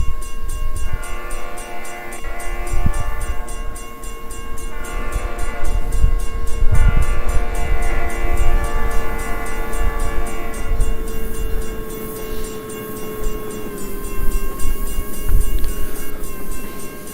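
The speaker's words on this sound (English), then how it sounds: "We're gonna watch Train fully run by and we're gonna listen to a defect detector." A train runs past a defect detector in the Trainz video game, a loud continuous rumble with a steady clickety-clack of wheels and horn-like tones sustained through, up close and without talk.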